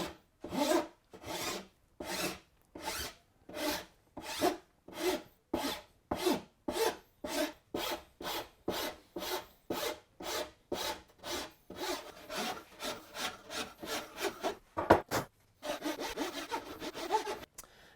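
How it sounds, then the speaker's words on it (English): A flat bastard file is pushed by hand across wood for a beginner's wooden sword, making loud, rhythmic rasping strokes about once per second, repeated steadily and speeding into quicker scrapes near the end, with no talking. "I'm using the Flat Bastard, which is a common file, it takes a while"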